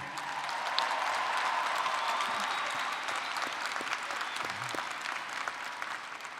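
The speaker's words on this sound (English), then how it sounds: "Let's give a hearty round of applause for Randy." Sustained applause from a commencement audience at a UNLV winter graduation, a dense steady wash of many hands clapping that holds at an even level throughout.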